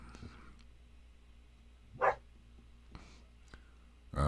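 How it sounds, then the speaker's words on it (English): A dog barks indoors to be let out, a few separate sharp barks and yips spaced over a few seconds against a quiet room, fairly close. "So she's barking at us to let her out."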